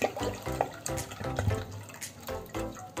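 About a litre of water poured into a kadhai for cooking kakera pitha, an Odia sweet dumpling, giving a continuous splashing, trickling flow with small drips close by, heard alone without talk.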